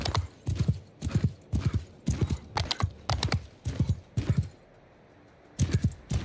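A horse's hooves clip-clop in a steady trotting rhythm in a video game, about a dozen crisp close strikes, then a short pause before the hoofbeats resume.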